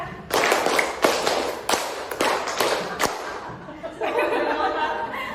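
A group of people claps five quick beats then three more in a classroom-style gathering, crisp and near, followed by a murmur of voices and light laughter.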